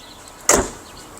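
A brief power window motor whir inside a Peugeot 505, a single short burst rising sharply then fading out within about half a second against a quiet cabin.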